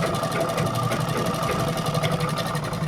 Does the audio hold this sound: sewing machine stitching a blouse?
yes